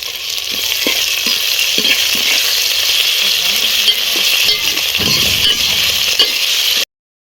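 Chopped garlic and ginger hitting hot oil with browning onions and mutton, a loud steady sizzle with scattered spoon scrapes and clinks against the pan, close up and without talking.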